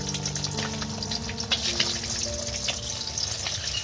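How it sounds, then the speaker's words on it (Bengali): Eggs sizzle and fry steadily in a hot wok for fried rice made with ration rice, a continuous close crackle with faint stirring and no talk. "এই ডিম এতেই ভেঙে ফেলে দিতে হবে। ডিম একদম কড়াইতে সোজা।"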